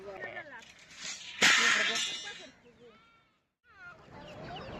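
Free-range chickens, freed after a day penned in, cluck and call nearby in short repeated bursts, one loud squawking outburst in the middle, with a voice murmuring underneath.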